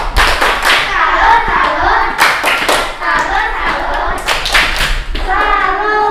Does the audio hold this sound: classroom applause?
yes